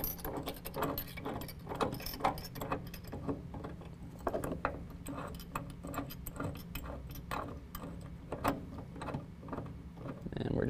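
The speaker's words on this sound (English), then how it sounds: "turn the top portion over so that it's over the top of our center panel, and hand tighten our bolt" Hand tightening a bolt on a DiamondBack SE truck bed tonneau cover produces a series of soft close clicking, ratcheting and rattling metal sounds in an irregular rhythm at low volume.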